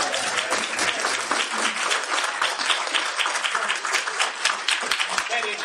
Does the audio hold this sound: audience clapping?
yes